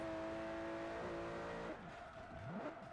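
The Hoonigan RWB Porsche's engine in Forza Horizon 4 holds a steady tone, then its pitch shifts and swoops as it revs and eases off. The sound is fairly quiet, with no talk over it.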